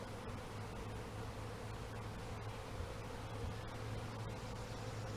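Honey bees around a hive nuc during installation, a steady, faint, continuous buzzing hum with a low-pitched drone underneath, unchanging throughout and with no talk.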